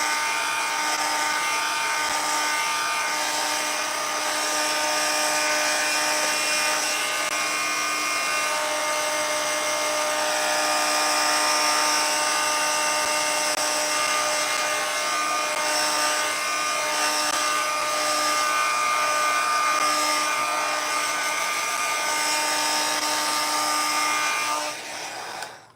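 An electric heat tool blows a steady, loud, whining drone over decoupage pieces coated with Pentart antiquing gel, running continuously for about twenty-five seconds before cutting off at the end.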